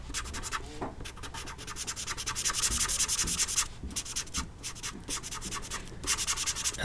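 Pencil shading across paper while darkening a drawing of Elastigirl and Jack Jack, a steady close scratchy rubbing with quick stroke pulses that runs throughout and swells a little midway, with no talking.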